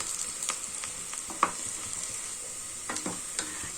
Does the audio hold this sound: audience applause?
no